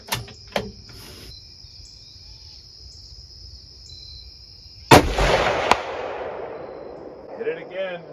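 A .30-06 Mauser rifle with a clamp-on muzzle brake fires one loud, sharp shot outdoors, its blast rolling off in a long echoing decay, with faint clicks before it, insects buzzing in the background, and a voice at the end.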